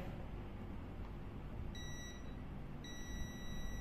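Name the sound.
multimeter continuity buzzer beeping, CHINT palm size meter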